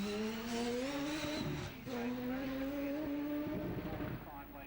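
A Brighton DP2000 race car at Donington Park pulls away with a loud, steady engine drone whose pitch climbs through the gears, with a commentator's voice running over it.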